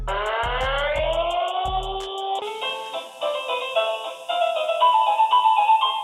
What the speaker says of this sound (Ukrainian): кастомний звук для вашої сирени